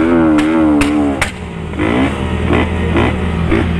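A motorcycle engine revs hard several times, with sharp exhaust backfire pops crackling between the revs, loud and close.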